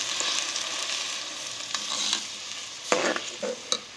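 Squeezed tomatoes with a little sugar hit a hot pan for Egyptian-style baba ghanoush, giving a soft steady sizzle with scraping stirs and a few sharper clinks of the spoon, close and fairly quiet.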